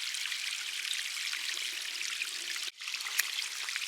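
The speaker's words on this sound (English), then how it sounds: "God, I love the sound of the waterfall." A garden pond waterfall splashes and trickles steadily, a soft, even rush of falling water close by with one brief dip and a small splash near the end, no voices.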